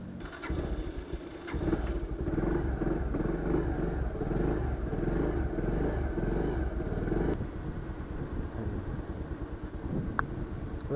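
A motorcycle coasts downhill in neutral on a cool mountain road between Assam and Arunachal Pradesh, its low engine rumble and road and wind noise steady and close throughout.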